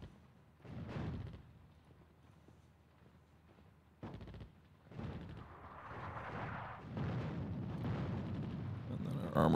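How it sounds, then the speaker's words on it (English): Artillery booms in a WWII strategy game set in the North African desert near Tobruk, with heavy explosions landing among troops in the open and rumbling blasts building into a dense barrage. "Considering we're getting hit by artillery with our troops in the open"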